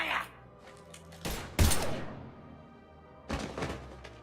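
Gunfire bursts from the Mass Effect 3 video game: a few loud, sharp shots cracking out separately, with quieter ambience between them.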